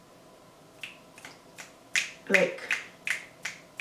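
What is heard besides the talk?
finger snapping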